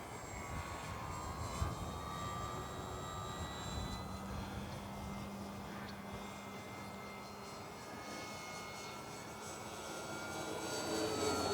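A small motor drones steadily with a whining, buzzing tone, its pitch shifting slightly as the model plane circles at a moderate distance.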